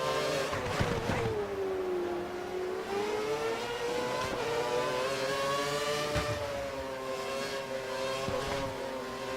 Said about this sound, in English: Well, that's Lewis Hamilton, still trying to get close to the back of Paragon number 125